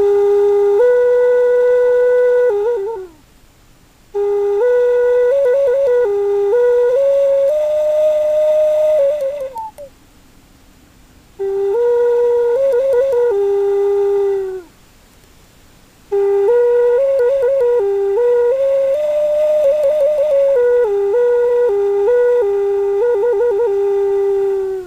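A Ben Hunt style Indian flute some 25 to 30 years old plays a simple song alone, in breathy sustained tones of three or four phrases separated by short pauses, close and fairly loud.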